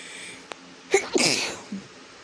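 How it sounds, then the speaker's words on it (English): A single loud sneeze close to the microphone, a sharp intake followed by a burst, in an otherwise quiet space. "I was having a little sneeze attack"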